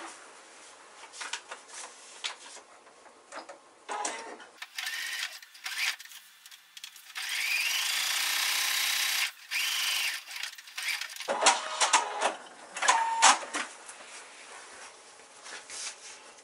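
A sewing machine stitches through foundation paper piecing in several bursts, a fast whirring rattle that starts and stops, with one longer steady run in the middle and quiet pauses between.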